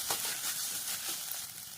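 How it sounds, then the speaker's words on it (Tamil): Steady sizzling of onions sautéing in a hot pan for cabbage rice, a continuous crackling fry with faint stirring scrapes, close and moderately loud. "வெங்காயம் வந்து இந்த அளவு வதங்கினா போதும். இந்த பாருங்க, இந்த மாதிரி வதக்கிக்கணும்."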